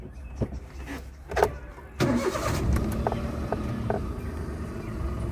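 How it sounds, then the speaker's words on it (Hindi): After a few clicks, a car engine cranks and catches about two seconds in, then settles into a steady idle, close by and fairly quiet. "मैंने गाड़ी को इंजन को चालू कर दिया है अभी"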